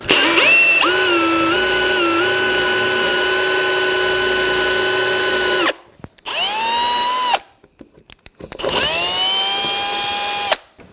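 A power drill whines loudly as it bores a 1-inch-deep hole into wood, revving down, then running in two shorter bursts with brief pauses between.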